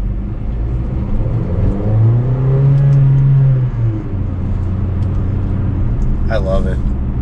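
A Mercedes-Benz GLA 45 AMG engine rumbles and revs with a throaty, muscular swell in the middle, while someone talks over it, ending with a short sharp burst.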